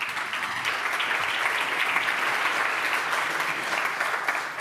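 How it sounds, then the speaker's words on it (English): Sustained audience applause at a panel event on privacy and the data economy, a steady wash of many hands clapping at even loudness throughout, without speech. "let's have one more applause for that last panel."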